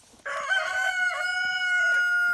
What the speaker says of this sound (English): When new roosters are crowing for the first time, it's kind of funny.